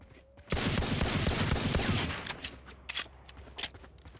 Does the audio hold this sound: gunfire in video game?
yes